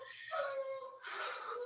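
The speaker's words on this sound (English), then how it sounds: "My dogs are going crazy because the mail just came." Dogs bark and yip at the arrival of the mail, a short close burst of high, strained barking and whining in a quiet indoor room.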